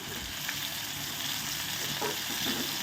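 Chili, onion, mint and curry leaves sautéing in a pan for tomato chutney, giving a steady close sizzle with faint stirring scrapes throughout and no voices.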